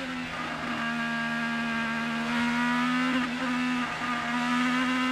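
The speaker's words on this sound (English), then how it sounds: "You can hear the throttle application." IndyCar race car at the 2018 Detroit Grand Prix with its engine under throttle, a sustained tonal whine with rising pitch and brief dips as the driver feathers and reapplies power.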